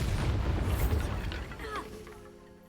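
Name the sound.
Bombarda blasting spell explosion in Hogwarts Legacy video game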